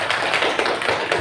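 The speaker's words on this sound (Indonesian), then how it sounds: "Tepuk tangan buat kalian." Students clap together in a classroom, a steady patter of many hands filling a short burst with no pauses, fairly close and loud.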